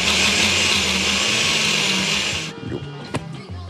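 Blender whirring loudly as it blends curry into a paste, a steady high motor roar for about two and a half seconds before it cuts off, followed by quiet clatter and a sharp knock.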